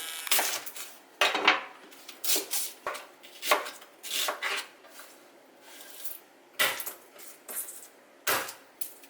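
An onion is chopped on a cutting board while preparing mushroom pasta: a series of separate, crisp knife strikes at an uneven rhythm, close and fairly loud, with brief quiet gaps between.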